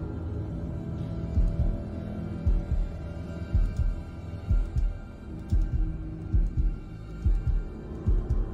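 A steady, thudding heartbeat in the video game Man of Medan pulses close and loud at a regular double-beat rhythm over a low droning hum.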